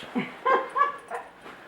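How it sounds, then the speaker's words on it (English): Nearby in an antiques center shop, a dog gives a few soft whimpers and small yips over a low room hum. "And his trusty dog Ringo."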